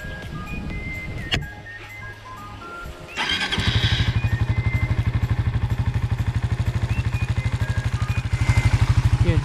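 A Suzuki Raider Fi 150 motorcycle engine, just fitted with a new NGK Iridium spark plug, cranks and catches, then settles into a steady, rapid idle putter close by, loud and continuous for several seconds.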